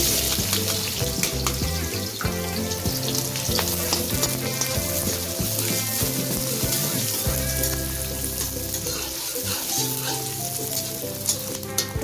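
Chopped onions frying in hot oil, a loud continuous sizzle and crackle with occasional stirring clatter, close up and without talk.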